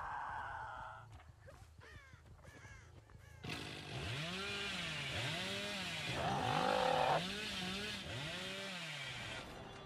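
A chainsaw revs up loudly in the video game Dead by Daylight, its engine rising and falling in repeated surging whines after a quieter start with crow caws and clatter.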